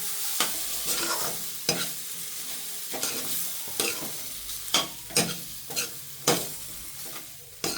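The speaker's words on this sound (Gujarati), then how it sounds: "સાબુદાણા નાખી દઈશું. સરખી રીતે આપણે એને હલાવી દઈશું." Soaked sago pearls are stirred into khichdi in a pan over a soft sizzle, with a spoon scraping the pan in repeated sharp strokes at an uneven rhythm, close and clear with no talking.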